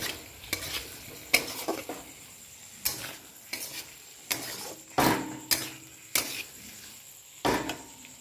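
Fried potatoes and katla fish sautéed in masala, a quiet sizzle punctuated by about a dozen distinct scraping, knocking strokes of a spatula against the pan, close and rhythmic, no voices.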